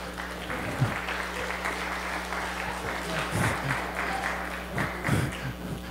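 Church congregation clapping in a sustained wash of applause, fairly close and steady, with a low hum underneath and a few louder thumps.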